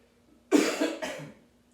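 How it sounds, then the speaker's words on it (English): Two close coughs in quick succession, the first louder and harsher, the second shorter, followed by silence. "And without coughing too many times."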